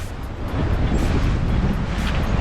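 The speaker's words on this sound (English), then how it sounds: "the wind has shifted and we've got great wind to sail now" Strong wind roars steadily across the microphone aboard a sailboat under way in rough open water, a dense continuous rush with no voices.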